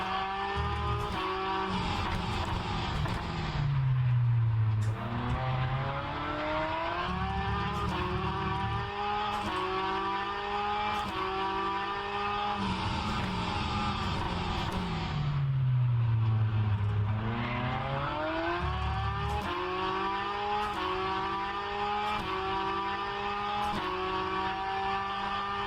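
Hypercar engine in an rFactor 2 racing mod, revving hard through repeated upshifts with rising pitch sweeps, then dropping in pitch under braking and downshifts, a continuous loud onboard drone over about twenty-six seconds.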